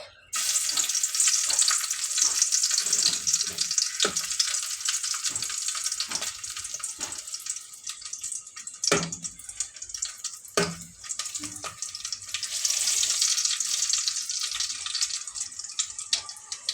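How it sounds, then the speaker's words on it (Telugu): Crushed garlic cloves frying in a tablespoon of hot oil in a kadai, a steady bright sizzle that carries through the whole stretch, broken by a few clinks and stirring knocks. "ఆయిల్ హీట్ అయిన తర్వాత దంచి పెట్టుకున్న ఐదారు వెల్లుల్లి రెబ్బలు వేసుకోండి"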